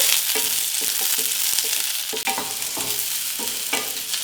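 Onions lightly frying in a pan for spinach pulao, with a steady sizzle under repeated scraping and stirring strokes, close and clear with no voices.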